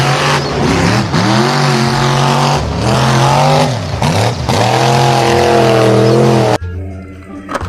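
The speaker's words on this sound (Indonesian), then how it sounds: "kita menemukan mobil monster" A monster truck engine roaring loudly and close, revving up and down repeatedly with rising and falling pitch sweeps, then cutting off abruptly near the end.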